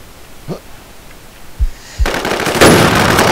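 Gunfire in the online zombie shooter Infestation: a few scattered single shots, then from about two seconds in a loud, continuous burst of rapid automatic fire that keeps going to the end.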